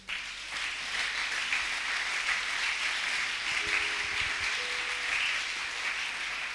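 A church congregation applauds together, a steady wash of clapping from many hands that sounds somewhat distant and fills the room, with a few faint sung or hummed tones rising briefly under it.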